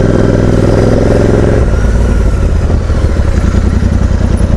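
A motorcycle rides a mountain road on the Serra do Rio do Rastro route, its engine loud and close with a steady drone and a shift in pitch partway through.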